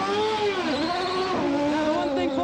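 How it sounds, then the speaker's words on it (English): An Indy race car at the 1994 Indianapolis 500 revs hard as it leaves a pit stop, a loud, high-pitched engine howl that climbs, dips briefly and climbs again, heard close by. "You could hear the engine was much higher"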